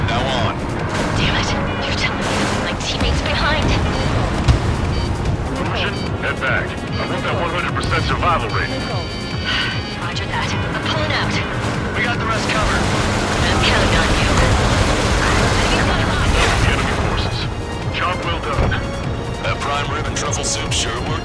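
Explosions as a battleship is sunk in the video game Ace Combat 7, a continuous loud rumble of blasts and crashing booms layered with voices talking throughout.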